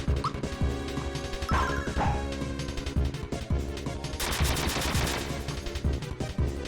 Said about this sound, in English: That hand cannon especially, it's pretty devastating.